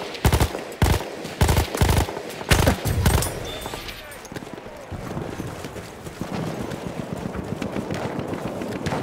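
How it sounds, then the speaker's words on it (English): Enemy machine gun fire in Battlefield 1 on a hardcore mode, loud rapid bursts of shots in the first few seconds, then fading into a dense battlefield rumble with scattered distant gunfire. "Enemy machine gun!"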